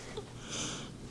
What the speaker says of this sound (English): I gotta do a quick little spray and sniff.